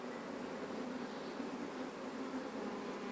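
Bees swarming around a wooden stump hive and capture box, a dense steady buzzing hum that sits faintly in the background and stays constant throughout.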